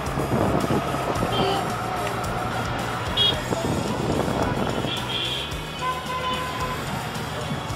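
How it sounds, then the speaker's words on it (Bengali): Busy road traffic in a Dhaka city jam during a thunderstorm and rain, heard from a motorbike: a steady wash of engines and road noise with occasional horn beeps and the rumble of nearby vehicles. "রাস্তায় যথেষ্ট ভালো জ্যাম।"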